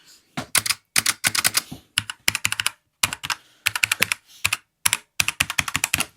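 Bursts of brisk typing on a MARVO LOOT 30 keyboard with tactile clicky switches and a noisy spacebar, short pauses between runs, close and fairly loud, the keys clacking in quick irregular clusters.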